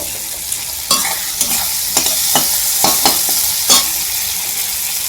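Curry cooks in a pan on the stove with a loud, close, steady sizzle and a series of sharp scrapes and clacks from stirring, and no voices.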